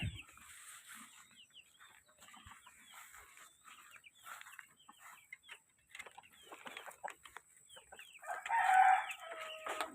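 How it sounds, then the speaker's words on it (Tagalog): Chickens cluck and fuss nearby in a busy, uneven chatter, with a rooster crowing loudly near the end. "silipin natin yung manok"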